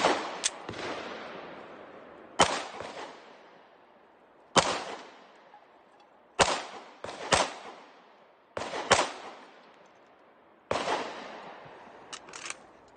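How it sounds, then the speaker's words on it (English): Guns fired outdoors by people some distance away, sharp loud reports arriving every couple of seconds, some doubled, each trailing off in a long echoing decay. "We got some people shooting up over there."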